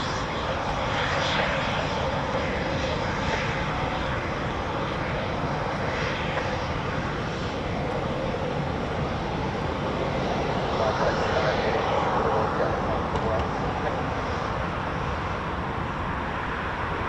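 A Eurofighter Typhoon FGR4 jet lands at an RAF station, a steady broad roar of jet engine noise heard from a distance, slowly shifting in pitch as it rolls out and slows.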